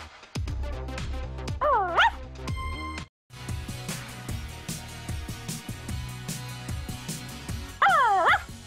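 A cartoonish puppy in the Barbie and Her Sisters: Puppy Rescue video game yips, barks and whimpers in short bursts over bouncy game music, with rising whiny cries near the start and end.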